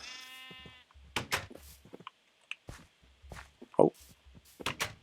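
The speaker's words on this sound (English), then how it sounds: "All right, so let's get a sheep." A sheep in the Minecraft video game bleats once in a short wavering burst, faint beneath scattered game footsteps and clicks in a quiet setting.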